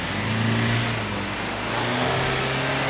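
A lifted four-wheel drive on 35-inch tyres working up a bush track, engine droning and revving in rising and falling tones, loud and steady with no talking.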